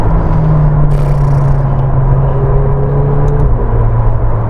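A McLaren 720S supercar drives along with a loud, steady engine drone and road rumble from inside the cabin, holding an even pitch with a brief higher whine near the start.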